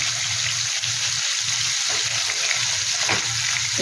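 Onion paste with garlic and ginger paste sizzles steadily in hot oil for Bengali katla fish curry, a close, continuous hiss and crackle with no talking.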